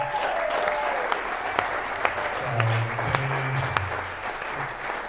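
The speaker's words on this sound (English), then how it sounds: "a big round of applause for DJ and Marielle" An audience at a community annual meeting gives a sustained round of applause, steady clapping filling the room for several seconds with a few murmured voices underneath.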